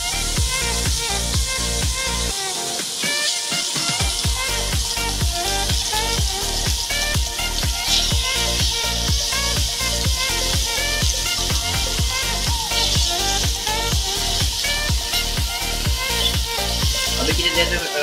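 Chicken breast pieces fry in ghee with a dense, continuous crackling sizzle and scattered pops that stay close and steady throughout, while a voice speaks faintly at times.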